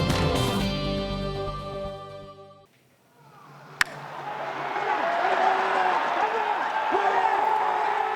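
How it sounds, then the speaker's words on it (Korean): A baseball stadium crowd roars as fans cheer in person again after a two-and-a-half-year absence. A short musical passage ends, then a broad, sustained wash of crowd noise swells in, punctuated by one sharp bang. "야구장에 함성이 돌아왔습니다"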